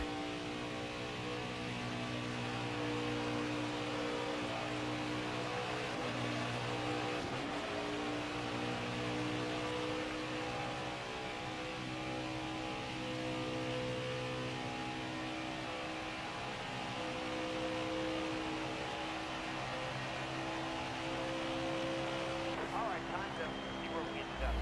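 A NASCAR truck engine on a qualifying lap in NASCAR Heat 5 holds a steady, droning high-revving whine with layered harmonic tones, constant and close throughout, with a voice talking faintly beneath it.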